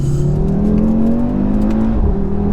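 An Audi RS3 engine pulls hard on boost, a loud close rising drone heard from inside the car that dips briefly near the end as the revs shift.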